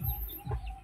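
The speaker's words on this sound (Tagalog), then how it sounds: "Ayan, manok dito. So free range lang sila." Free-range chickens on a farm give a few soft clucks close by, short low calls over quiet outdoor background with no talking.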